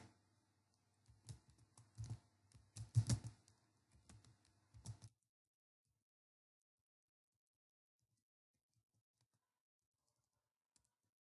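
Close computer-keyboard typing while writing JavaScript code: an irregular run of quiet key clicks for about five seconds, then near silence with one faint tap at the end.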